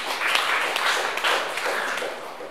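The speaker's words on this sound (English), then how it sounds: "Let's give the Lord a clap of praise." A church congregation clapping in praise, giving a burst of dense applause at moderate distance that holds steady for a couple of seconds and then tapers slightly.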